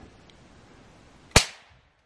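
A single sharp gunshot rings out during a hunt outdoors in British Columbia, a loud close crack that fades quickly into quiet.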